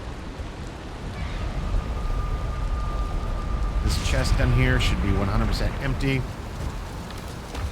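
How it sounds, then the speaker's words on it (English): Steady rain hisses throughout a stormy scene in the video game Valheim, broad and constant, with someone talking over it for the latter half. "I don't care about the rain."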